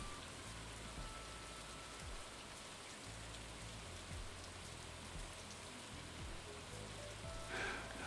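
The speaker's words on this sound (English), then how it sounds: "It's raining." Steady rain falls in a video game, a dense, even hiss of drops with no talk over it.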